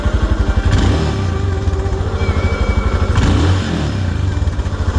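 Royal Enfield Himalayan motorcycle engine running close by, a loud, rhythmic single-cylinder thump pulsing steadily with slight swells in revs.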